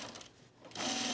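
A sewing machine stitches a men's tropical shirt, a steady close whirring hum that eases briefly and then runs faster and louder, with no voices.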